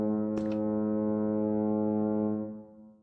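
Deep boat foghorn in Minecraft, one loud sustained rich blast that holds steady for over two seconds before fading out, with a brief click near its start.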